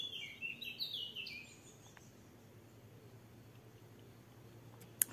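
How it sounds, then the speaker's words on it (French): Small blackbird singing faintly in the open on a warm, humid day, a few thin high whistled phrases early on, then quiet ambient background with a single sharp click at the end. "Je pense que c'est un petit merle là"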